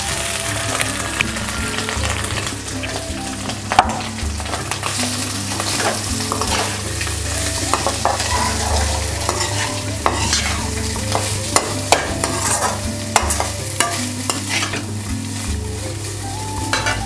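Prawns sizzle and fry in a pan for an omelette while being stirred, a steady dense crackle with frequent scraping stirs and occasional clinks, close and loud throughout with no talking.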